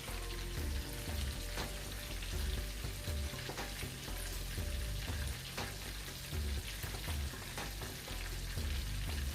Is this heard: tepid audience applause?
no